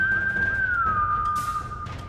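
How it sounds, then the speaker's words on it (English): A single clear human whistle, held and then sliding gently downward in pitch, sounds aimed at a crawling zombie in a doorway during a tabletop game scene, moderately loud over faint background hiss. "and I whistle at it again"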